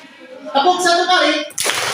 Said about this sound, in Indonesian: Tepuk satu kali.